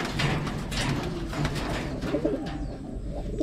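Racing pigeons coo in a loft during training for a north race, soft repeated throaty coos sounding close over a low background rumble, with no talking.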